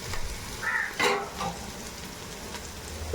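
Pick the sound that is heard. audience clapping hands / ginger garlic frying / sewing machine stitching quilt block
ginger garlic frying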